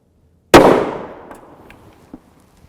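A single sharp 5.7x28mm gunshot, a Speer Gold Dot 40-grain hollow point fired into armor and ballistic gel, cracks loudly and close, then rings away in a long decaying echo with a few faint clinks after.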